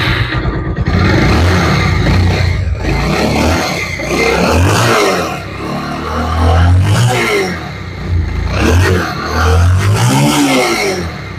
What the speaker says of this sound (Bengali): মানে থ্রোটলটা নিতে, মানে অ্যাক্সেলারেশনটা নিতে, এই যে স্টার্ট বন্ধ হয়ে গেছে, অনেক ঝামেলা করতেছে।